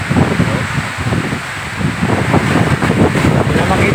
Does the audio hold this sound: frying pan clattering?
no